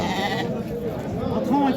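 Goats bleat at a busy livestock market, a few short wavering calls rising near the end of the clip, partly masked by steady crowd noise and people talking close by.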